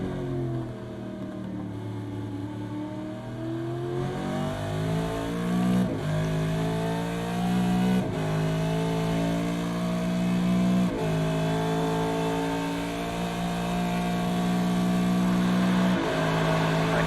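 A Holden Commodore Supercar in the iRacing video game at Bathurst, engine screaming at full speed down a straight, loud and continuous with steady high-pitched harmonics and brief dips at each gear change.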